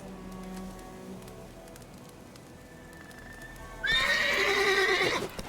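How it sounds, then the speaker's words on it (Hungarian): A horse in the video game The Witcher 3: Wild Hunt, with a loud whinny bursting in near the end, following quiet ambience and faint soft hoof sounds. "Szerencsére Geralt mindig számíthat a lovára, Keszegre"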